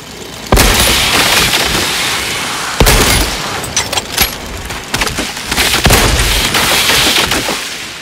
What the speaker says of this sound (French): Les spores explosent lorsqu'elles détectent une menace proche